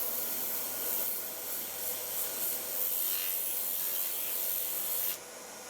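Hand sanding a wooden water flask on the lathe with the pad removed, a steady close scratchy rubbing that runs unbroken for several seconds before dropping off at the very end.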